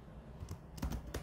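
Several soft keystrokes on a computer keyboard while writing Python code, a few spaced clicks in a quiet room.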